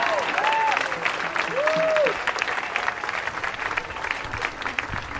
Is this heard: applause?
yes